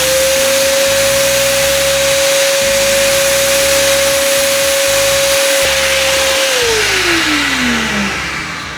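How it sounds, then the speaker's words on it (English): A shop vac drives a Vinyl Vac attachment to clean a vinyl record, running loud and steady with a constant whine that drops in pitch as the motor winds down at the end, no voices. "take the Vinyl Vac, attach it there, fire up the shop vac."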